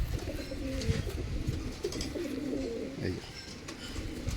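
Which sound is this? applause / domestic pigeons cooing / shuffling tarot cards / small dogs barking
domestic pigeons cooing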